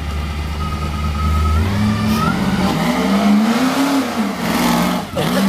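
A truck engine revs loudly nearby at an outdoor motor show, rising and falling in pitch with a deep rumble, while crowd noise murmurs in the background.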